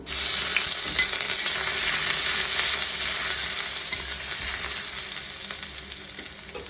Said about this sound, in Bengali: ফোড়নে দিচ্ছি সামান্য পরিমাণে কালো জিরে আর শুকনো লঙ্কা। দিয়ে দেব কুচনো রসুন।